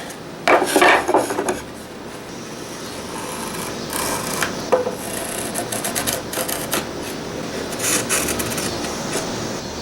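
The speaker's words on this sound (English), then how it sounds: "sometimes it's just nice to go over it with a chisel and make things look nice and dapper" A chisel pares and rubs across the surface of a wooden Japanese-style chisel box, giving close scraping strokes in short bursts, with a few light clinks in between.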